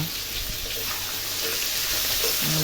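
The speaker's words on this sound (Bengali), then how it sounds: "ভালো করে কষাইতে হবে, ভালো করে মশলা মাখাইতে হবে" Spices with ginger paste and turmeric fry in a pan, giving a steady, fairly loud sizzle and hiss with faint stirring scrapes underneath.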